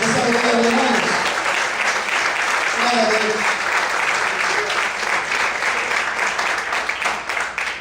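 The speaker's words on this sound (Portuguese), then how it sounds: "Quantos podem aplaudir e exaltar a Ele nessa noite?" A church congregation applauds during an evening service, a loud sustained wash of clapping with voices calling out over it early on, gradually thinning toward the end.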